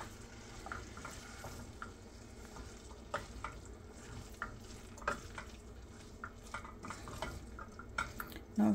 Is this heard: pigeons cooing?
no